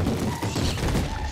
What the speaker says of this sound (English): The ghasts are firing, but where are they firing at?